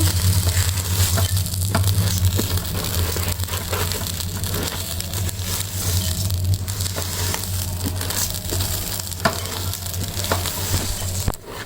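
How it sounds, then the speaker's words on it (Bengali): Rice dry-fries in a pan with ginger paste for pulao, producing a continuous, fairly loud crackling sizzle with faint scraping, steady from start to finish and with no talking. "আমার চালটা কিন্তু ভাজা হয়ে গেছে শুনতে পাচ্ছেন এটার মধ্যে থেকে একটা কড়কড় করে আওয়াজ হচ্ছে"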